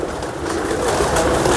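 A domestic pigeon coos softly while held in the hand, a low, muffled, continuous murmur over steady close-up background noise.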